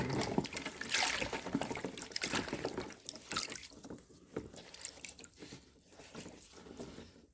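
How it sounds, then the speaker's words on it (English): Running tap water splashes over hands at a sink in a pottery studio, a steady close trickle with dripping and splashing that eases off partway through, with no talking. "let me just wash my hands here."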